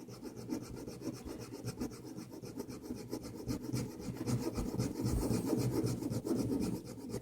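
Ashwagandha root rubbed on a wet rubbing stone with liquid from a small katori, a steady close rasping scrape repeating in quick strokes throughout, with no voices.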